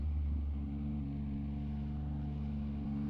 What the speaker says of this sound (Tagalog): Tapos ang ganda, sarap ng tunog ng quick shifter.